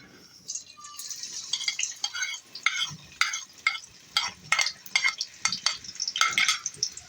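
Two finely chopped medium onions fry in hot oil, a close crackling sizzle broken by bursts of rhythmic stirring and scraping against the pan.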